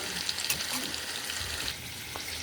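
Mixed vegetables with ginger, garlic and onion paste and tomato fry in a pan for a prawn dish, a close, continuous sizzle with a soft scrape of stirring.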